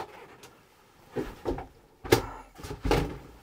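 Campervan door on a Mega Mobil Mega Revolution motorhome being closed, a series of soft knocks and thuds from handling and latching the door, close by and without talk.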